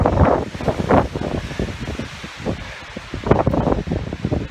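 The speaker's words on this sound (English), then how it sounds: "I'm getting blasted with wind, so might be droning out my voice here." Strong wind with a little snow blasts a microphone on a mountain, producing loud rumbling, buffeting gusts that rise and fall unevenly throughout.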